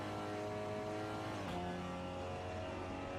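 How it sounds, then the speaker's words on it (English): A race car engine in a sim racing game drones steadily at Hockenheimring, a constant tonal hum with a brief shift in pitch midway as the driver eases off, heard alone without voices. "We'll listen to his engine actually to see if he's doing a little bit of coasting or what"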